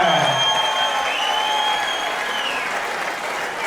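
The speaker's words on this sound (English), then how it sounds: "Give our extra prominence round of applause," An audience at a SuperFight combat event applauds the winner of the round, a dense steady wash of clapping from a crowd that holds throughout, with a faint voice underneath.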